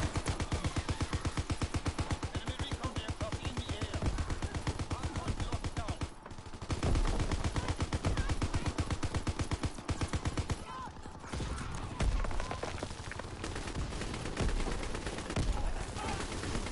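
Rapid heavy gunfire from big guns in a WW2 zombie video game, dense automatic bursts hammering continuously with a couple of brief pauses, loud and close.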